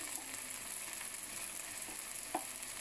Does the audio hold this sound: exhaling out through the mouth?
no